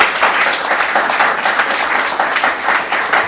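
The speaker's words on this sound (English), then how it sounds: "Give them a round of applause." Loud, dense applause from an audience at an environmental awards ceremony in Connecticut, a continuous wash of many hands clapping together with no speech over it.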